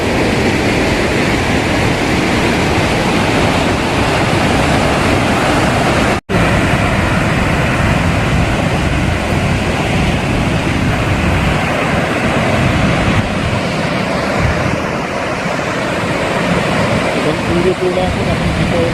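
Victoria Falls roars in a dense, unbroken wash of water noise, loud and constant throughout, with wind buffeting and a brief dropout partway through.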